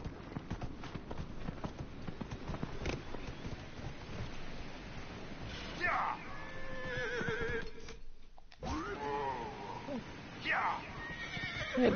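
A horse in a video game, Dragon Age: Inquisition, whinnies loudly twice, with soft hoofbeats and rain-like ambience underneath and someone talking throughout.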